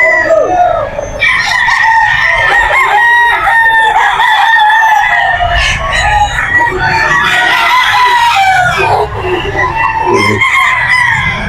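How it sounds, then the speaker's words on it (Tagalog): Several roosters crow loudly and repeatedly, overlapping one another, with hens clucking throughout in a busy, noisy pet market in Bocaue, Philippines. "Daming manok ngayon."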